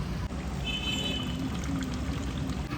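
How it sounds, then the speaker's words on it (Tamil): Lemon juice poured into a large pot of Eid mutton biryani being cooked in bulk, a steady close liquid stream running for a couple of seconds over a background hiss. "லெமனை ஊற்றிப்போம்."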